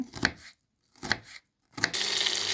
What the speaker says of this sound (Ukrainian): І далі цибульку подрібнюємо на квадратики.